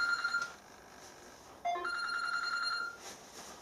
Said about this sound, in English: the bastard phone's ringing now